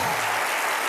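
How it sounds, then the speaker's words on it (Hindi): A brief, dense burst of studio audience applause at a televised comedy show, loud and continuous without a break. "जोरदार तालियां बजती रहे"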